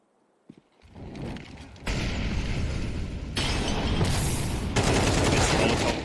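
Rapid gunfire from the video game Counter-Strike 2 builds into a dense, continuous barrage of shots and bursts, loud and sustained after a few quiet opening pops.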